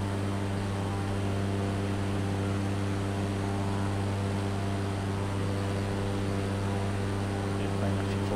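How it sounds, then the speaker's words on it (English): A light propeller airplane drones steadily in flight, a loud constant engine tone with strong harmonic hum and airy rush, unchanging for the whole stretch and with no speech over it. "So let's get the plane up a little bit."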